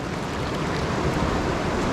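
River rapids at Dartmouth Rapids near Ohiopyle make a steady broadband rush of whitewater, close and constant with no talking.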